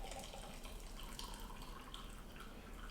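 Tea poured from a pot into a cup at a desk, a steady close liquid stream splashing and trickling without pause for about three seconds, with no talking.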